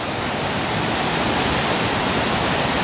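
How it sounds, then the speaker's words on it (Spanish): A river near the Mackwoods Labookellie tea plantations in Nuwara Eliya, Sri Lanka, rushes steadily with a dense, even hiss of flowing water, heard close and alone with no voices. "tenemos un río cerca"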